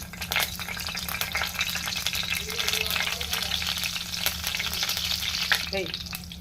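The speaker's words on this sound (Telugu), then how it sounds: "మసాలా అట్లా వేసుకున్నాక కొద్దిగా ఆవాలు, జీలకర్ర కూడా వేసుకున్నాం." Whole spices, cloves, cardamom and a bay leaf with mustard seeds and cumin frying in oil, a constant close sizzle with fine crackling pops and occasional stirring scrapes.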